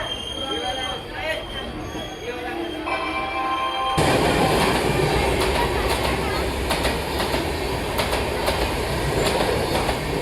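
Kanchankanya Express rolling past on rails, loud and close, with steady rumbling, rhythmic clickety-clack of wheels and some squealing, growing louder partway through as the cars go by.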